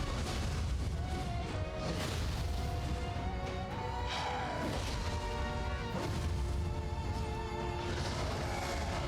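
Combat in the video game Nioh 3 during a yokai boss fight, with dense, continuous game audio of crashes, booms and explosive impacts layered over a sustained rumble and scattered tonal effects.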